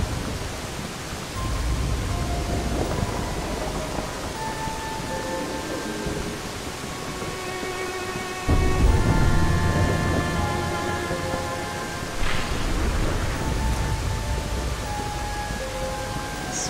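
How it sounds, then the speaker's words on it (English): Steady rain with a low rumble of thunder in a Dirge of Cerberus: Final Fantasy VII cutscene, a continuous broadband wash that swells louder midway, with faint musical tones drifting over it and no talk. "this is the first time I've ever felt the rain on my skin"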